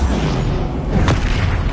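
A Confringo spell explosion in Hogwarts Legacy bursts as a loud, dense rumbling boom over steady, noisy game action, with a brief sharp crack near the middle.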